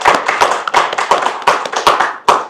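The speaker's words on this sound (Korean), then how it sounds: "박수로 환영해 주십니다" A crowd claps in a burst of applause welcoming candidates at a Gwangju election debate, steady and fairly close, with no talking over it.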